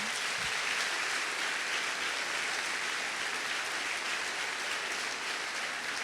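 Congregation at a church service applauding in worship, a dense continuous wash of clapping that fills the whole stretch evenly at steady loudness, with no talk over it.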